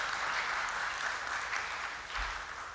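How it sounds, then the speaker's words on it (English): An audience at an inaugural university lecture applauds in a steady, continuous round of clapping that holds at an even level throughout, with no voices standing out. "I believe at this point we would give a round of applause"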